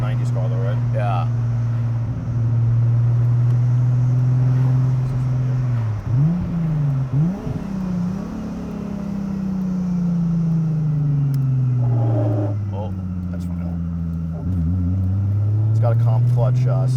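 Cabin drone of a 1990s Nissan Laurel sedan with an RB25 Neo swap and big single turbo under way, a steady engine hum that rises in pitch and dips at gear changes.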